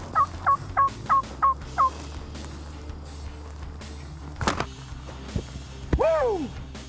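An Osceola wild turkey gobbles in a rapid run of five or six sharp calls close by in the palmettos and grass, followed by a few knocks and a brief rising yelp as the background quiets.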